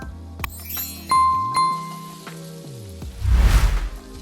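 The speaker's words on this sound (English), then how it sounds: "Now I'm going in with a tablespoon of butter." A tablespoon of butter hits a hot pan for Cajun shrimp pasta and breaks into a loud, close sizzle in the final second, after a few clear tonal chimes.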